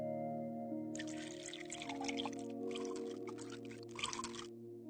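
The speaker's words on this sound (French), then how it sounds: "Ajoutez une petite quantité d'eau distillée." Distilled water poured into a standard 1-litre glass beaker for a nickel chloride solution, a steady close pouring hiss that runs for about four seconds over a constant low hum, with no talking.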